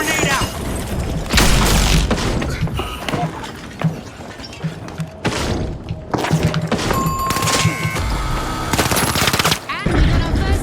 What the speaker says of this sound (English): Blitz grenade out!